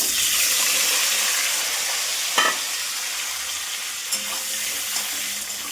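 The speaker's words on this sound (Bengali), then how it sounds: "আর এবার ডিমগুলো ভেজে নেব" Eggs fry in hot oil seasoned with salt and turmeric in a wok, a bright, steady sizzle up close with a couple of short clinks from stirring.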